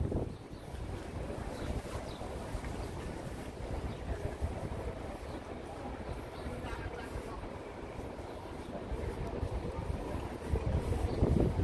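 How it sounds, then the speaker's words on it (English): Strong wind blows on a New York City street, a steady rushing roar that buffets the microphone throughout, with faint city noise underneath. "Now it's so windy."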